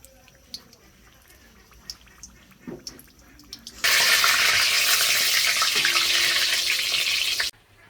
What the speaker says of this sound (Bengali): এখন নিজে বড়া ভাজবো।